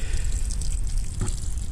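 Garden plants being watered, a steady moderate splash and pour of water close by with a brief stronger gush partway through, no talking.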